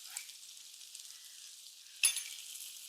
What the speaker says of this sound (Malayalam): കുറച്ച് എണ്ണ ഒഴിച്ചു കൊടുക്കുക അതിലേക്ക് നമുക്ക് സവോള ഇട്ട് കൊടുക്കണേ അരിഞ്ഞു വെച്ചിരിക്കുന്ന നമ്മുടെ രണ്ട് സവോള കുറച്ച് കറിവേപ്പില ലേശ ഉപ്പും കൂടി ഇട്ട് കൊടുത്തേക്കാം